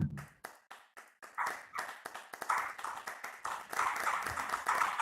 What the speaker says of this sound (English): We love your work, and we're clapping for that.